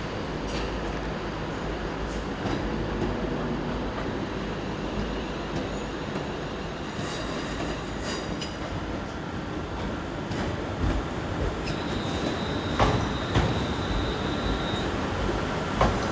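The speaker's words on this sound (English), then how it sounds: "Next to it, there's a Class 350 arriving." A Class 350 electric multiple unit pulls into a railway station, its broad rolling rumble steady and fairly near throughout, with a brief high wheel or brake squeal in the last few seconds before it settles.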